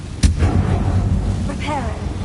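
In Hogwarts Legacy, the Incendio fire spell goes off with a sharp burst and then a loud, roaring whoosh that continues through the moment, set against game sound.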